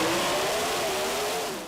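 A drag racing car's engine roars close by in one loud, sustained rev with a rising pitch, at a drag strip in Moulton, Pennsylvania, in front of a big crowd of fans.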